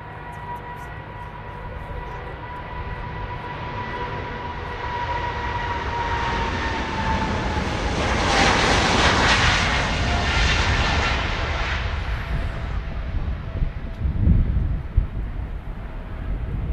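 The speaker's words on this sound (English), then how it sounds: "KLM's Boeing 777-200. And that is the Amsterdam-Vancouver flight." KLM Boeing 777-200 airliner at Amsterdam Schiphol airport, a steady loud jet engine roar that swells to a peak mid-clip as it passes and then recedes, with a faint whining tone throughout.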